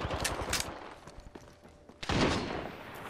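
Gunfire in Apex Legends, a few sharp shots with faint trailing crackle, then a louder, dense burst near the end.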